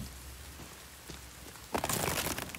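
Rain in the survival game The Forest, a steady soft patter that swells abruptly into a denser, louder downpour of drops drumming on surfaces.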